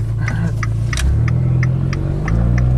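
A turbocharged Fiat car engine, running and smoking heavily, gives a steady close rumble with a faint, repeating whistle-like flutter above it.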